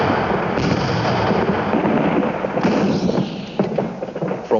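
First World War artillery fire: a sequence of booming cannon blasts and thuds, dense at first and then separating into distinct heavy reports, heard fairly distant.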